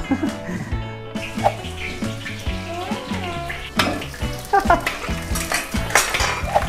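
Food frying and being stirred in a large wok cooked the old-fashioned way in a village kitchen in Hohhot, Inner Mongolia, China; a steady loud sizzle with clanking stirring strokes, tonal music-like sounds layered over it.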